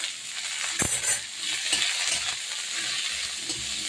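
Chopped cauliflower greens drop into frying black cumin and garlic, bringing a burst of close, crackling sizzle with a few spoon knocks, then steady soft frying.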